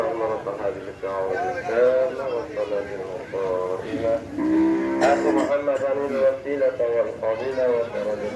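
Small cattle at a crowded cow market low again and again, near and loud, with one deep sustained moo in the middle and market voices around.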